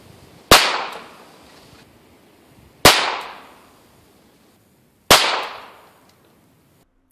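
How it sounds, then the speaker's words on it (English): Three CCI Mini Mag .22 Long Rifle gunshots ring out about two seconds apart, each a sharp, loud crack followed by a short fading echo, with quiet between them. "so why did I shoot three times with mini mag?"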